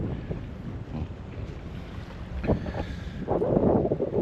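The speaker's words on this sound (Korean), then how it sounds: "오히려 바람도 많이 불고" Wind gusts buffet a sailing yacht riding at anchor in open water, a steady rushing hiss with microphone rumble that swells louder toward the end, with no voices.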